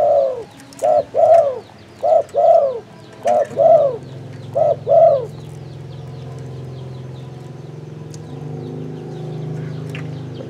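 A wild spotted dove on a mountain in Phu Yen coos near and loud in six rhythmic two-part phrases over about five seconds, followed by a low steady background hum.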